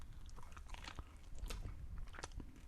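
Close, crunchy chewing and biting of expired snacks that ought to be crisp, a steady run of wet crunches and mouth noises with no talk.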